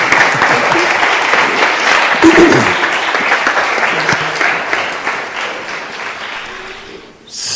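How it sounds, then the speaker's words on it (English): Warm applause from a church congregation at Christ Church, a steady dense clapping that carries for several seconds, then tapers and cuts off near the end. "could we please give Laura a very warm round of applause?"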